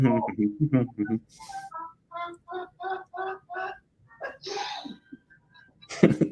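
A single sneeze bursts out near the end, loud and close, after a stretch of voices talking and a run of short melodic tones.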